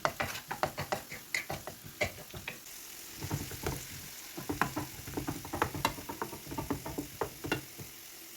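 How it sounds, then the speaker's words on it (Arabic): Chopped onion sizzles in hot oil in a stovetop pan, seasoned with salt and paprika for a spaghetti dinner, with steady crackling broken by repeated sharp stirring scrapes at close range. "وغادي نديرها فوق النار باش تحمس هذيك البصيله"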